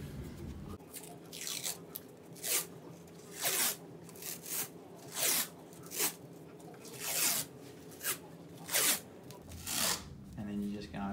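Rigid sports tape is pulled from the roll and applied over a knee in a ligament strapping, giving repeated sharp ripping and peeling bursts in an irregular rhythm, close and fairly loud.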